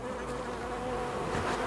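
Honey bees swarm around an opened hive in a steady, close buzzing hum that holds without a break, with no talking over it.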